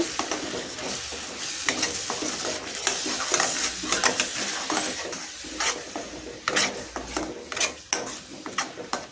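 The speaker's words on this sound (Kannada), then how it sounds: "ಈಗ ಇದಕ್ಕೆ ರುಬ್ಬಿರುವಂತಹ ಟೊಮೆಟೊ ಪ್ಯೂರಿಯನ್ನು ಸೇರಿಸ್ಕೊಳ್ಳೋಣ ಇದನ್ನು ಸಹ ಹಸಿ ವಾಸನೆ ಹೋಗೋವರೆಗೂ ಚೆನ್ನಾಗಿ ಫ್ರೈ ಮಾಡ್ಕೋಬೇಕಾಗುತ್ತೆ" Ground tomato puree frying in a pan for a restaurant-style chana masala, with repeated stirring scrapes and clacks of a spoon over a soft, steady sizzle.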